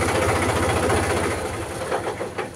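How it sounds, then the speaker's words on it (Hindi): A 2011 Mahindra 275 tractor engine runs at idle from cold, a steady low rhythmic chug with a metallic knocking texture, loud and close throughout with no talk. "बहुत ही बढ़िया इंजन बोल रहा, कोई गैस नहीं इंजन में, कोई गियरों में आवाज़ नहीं"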